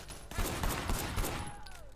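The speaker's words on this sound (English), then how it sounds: "Shooting at the guys over there." Gunfire erupts in the Sleeping Dogs video game, a rapid burst of several loud shots packed close together over the first half, then trailing off into a fading whine.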